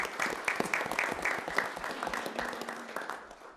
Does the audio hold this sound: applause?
yes